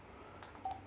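A number keyed in on a VoIP phone line gives a quick pair of faint electronic touch-tone beeps, close and clean against a quiet line hiss.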